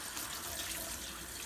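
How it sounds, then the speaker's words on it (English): Running tap water pours steadily onto a motorcycle engine cylinder being rinsed clean of soap, a continuous close broadband splash with no voices. "I'll rinse it one more time."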